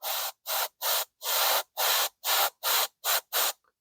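Spray paint coating a model figure in nine close, even hissing bursts of about a third of a second each, separated by short silent gaps, with no talking.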